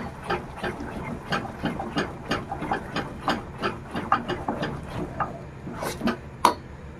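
Thick batter is beaten thoroughly in a bowl, giving a close series of rhythmic soft slaps and scrapes, roughly two per second, with a few sharper knocks near the end and no talking.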